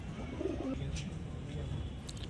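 A breeding pair of black-necked pigeons coos in low, rolling calls close by, with restless shuffling and light fluttering in the background and faint talking at moments.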